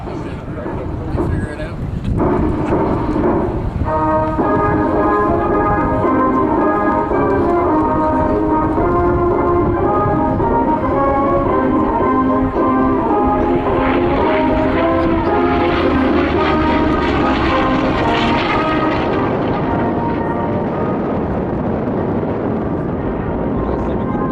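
An FG-1D Corsair fighter flies at the 2012 Waterloo Airshow, its engine a steady drone under loud military march music played throughout.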